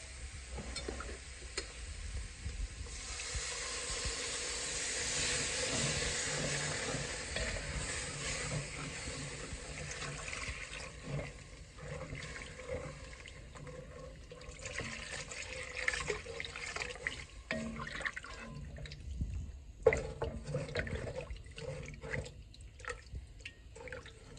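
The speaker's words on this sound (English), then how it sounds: "let's get our turkey broth in there" Turkey broth poured into a pot of simmering potato soup, a steady liquid rush with a faint sizzle and some stirring, close and continuous for the whole stretch without talk.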